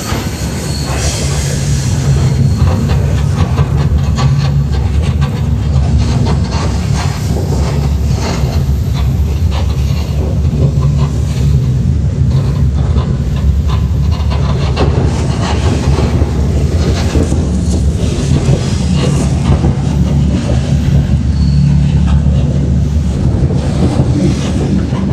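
Russian train with an extra locomotive coupled at the back, rolling through Karelia: a loud, continuous rumble of wheels on rails with rattling wagons and occasional squeals, heard up close from on board for the whole stretch.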